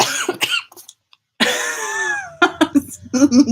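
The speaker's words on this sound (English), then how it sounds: "I'm gonna cough." A few sharp, close coughs, then a voice starts talking with some throat-clearing mixed in.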